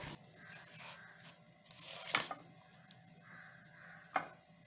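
Melted jaggery for gur papdi is stirred in a pan, giving soft scraping and faint sizzling with a few sharper clinks of the spoon against the pan, quiet and close.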